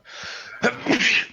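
One sharp sneeze bursts out close by after a short inhaled breath, set in a quiet room during a tabletop Dungeons & Dragons game session.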